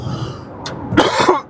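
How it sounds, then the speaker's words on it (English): A single close cough with a rough throat-clearing edge, loud and brief against a quiet background. "I don't know why I'm coughing today."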